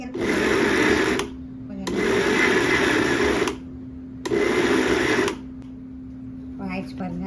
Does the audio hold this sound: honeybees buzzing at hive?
no